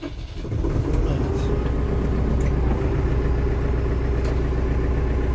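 An Erkunt Kıymet 90 Lüx tractor engine turns over and catches, then settles into a loud, steady diesel idle with a deep continuous rumble that carries on throughout.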